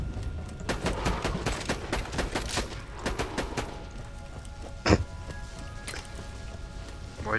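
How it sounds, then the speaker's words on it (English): Gunfire in Borderlands 2: a fast run of sharp cracking shots in the first few seconds, then a single heavier report standing alone, all close and loud over game background noise. "I'm gonna try my new sniper."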